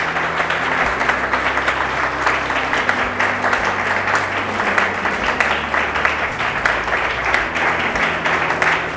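Sustained applause from the crowd at a college Makar Sankranti celebration during an award presentation on stage: even, continuous clapping with a low steady hum beneath it.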